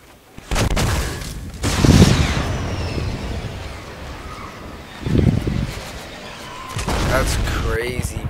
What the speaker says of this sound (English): How are they still shooting at me from this angle?